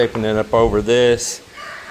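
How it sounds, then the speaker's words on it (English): A loose rooster crows loudly and close by on a swimming pool construction site with steel rebar grid work, the harmonic crowing lasting just over a second, followed by a short hiss and quiet background. "We got a rooster on the loose"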